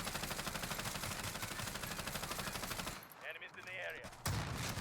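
Rapid automatic gunfire from a hip-fire test in Warzone, a loud steady burst lasting about three seconds, then a short lull with faint game sounds before another shot cracks near the end.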